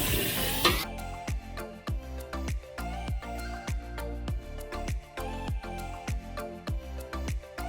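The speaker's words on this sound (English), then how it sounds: "We're going to add a whole stick of butter." A whole stick of butter sizzles as it melts in a pan on the stove, a close steady frying hiss broken by regular knocking strokes of a utensil against the pan.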